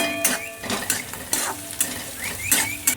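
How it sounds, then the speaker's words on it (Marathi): Food shallow fries in a pan with a steady sizzle while a utensil stirs and scrapes against the metal in repeated bursts, close and fairly loud, with no talking. "मी थोडं शॅलो फ्राय करूया थोडंसं."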